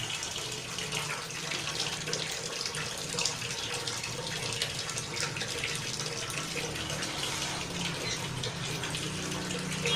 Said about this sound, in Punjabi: ਜਿਸ ਤਰ੍ਹਾਂ ਦੇਖੋ ਇਹ ਪਾਣੀ ਚੱਲ ਰਿਹਾ ਉੱਤੇ